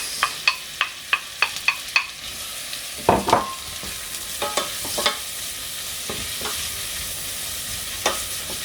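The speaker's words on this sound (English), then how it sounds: "We'll cook the onions slowly with no color, very important." Onions go into butter in a pan and sizzle steadily, with a run of sharp, evenly spaced clicks and scrapes from a utensil at first, then scattered stirring knocks over the continuous close frying hiss.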